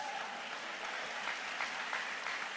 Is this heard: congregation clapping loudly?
yes